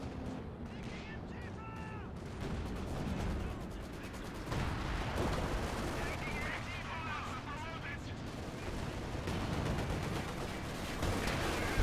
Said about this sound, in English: Stuka fire coming in.